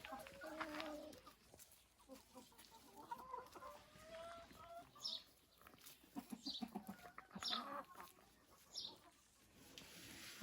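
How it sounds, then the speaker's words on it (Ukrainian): Frizzle and silkie chickens cluck and murmur quietly in short, scattered bursts, with occasional soft calls and low background rustling. "Зелененький півник фрізлі і шовкова парочка."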